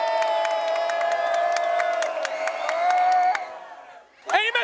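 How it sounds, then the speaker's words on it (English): A basketball finals crowd boos in a loud, sustained, droning roar as a player steps to the free-throw line, the din dropping off briefly before a voice cuts in near the end. "Everybody booing."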